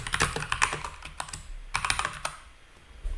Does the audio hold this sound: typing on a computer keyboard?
yes